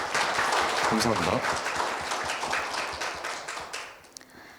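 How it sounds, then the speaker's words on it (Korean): Audience at a 2022 volunteer forum on social change applauding a presenter, a brief burst of clapping that fades out while a voice speaks over it. "발제를 진행해 주시고 질문에 답변해 주신 정연아님께 큰 박수 부탁드립니다."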